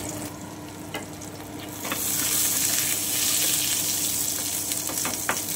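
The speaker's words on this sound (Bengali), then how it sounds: "ঘিটা একটু গরম করে নিচ্ছি। এতে আমি মুড়িটা দিয়ে দিচ্ছি। আমি একটু ভেজে নিচ্ছি।" Puffed rice frying in hot ghee in a pan, a steady close sizzle that grows louder about two seconds in, with a few light scrapes or stirs on top, no voices.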